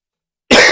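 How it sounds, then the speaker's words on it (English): One sudden, loud, close cough bursts out after a short silence, harsh and raspy, with no talk around it. "I'm gonna cough up a lung."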